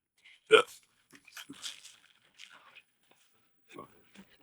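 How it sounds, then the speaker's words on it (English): Repeated hiccups from a person, a few sharp jolts spaced irregularly with a loud one at the start and softer ones after, close and in a quiet room. "Excuse the hiccups."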